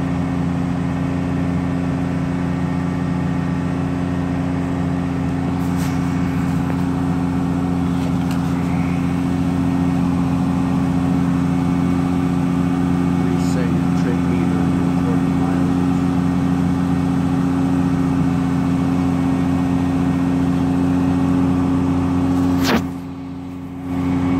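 A 4.7 stroker engine running steadily at elevated idle during its first-start cam break-in, a loud, continuous droning rumble with an even tone that dips briefly near the end.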